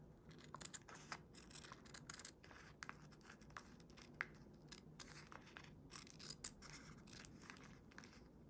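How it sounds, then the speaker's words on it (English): Scissors snip around the outline of a fused craft piece for a mason jar embellishment, a quiet, close series of rapid crisp cuts in irregular bursts with no talking. "just go around with your scissors and cut an"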